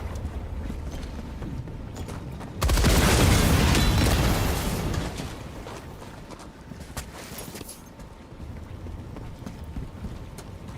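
A loud explosion in the video game Helldivers 2 erupts suddenly after steady background gameplay sound, its burst lasting a couple of seconds before fading into a lower rumble and scattered crackling.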